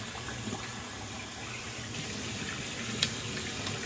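Running water rinsing a double-edged razor at a sink, a faint steady splashing flow with one small clink near the end.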